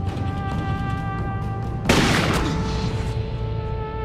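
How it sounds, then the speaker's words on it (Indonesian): A single sharp gunshot in an Indian action film bursts out near the middle, loud and close, over a sustained droning musical score that continues afterward. "Thomas pun berhasil menembak Pastoria hingga tewas seketika"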